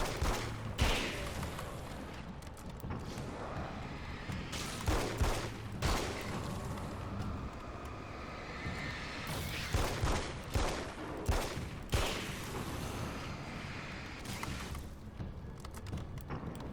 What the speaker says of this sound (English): I'm just shooting everything so I feel like it.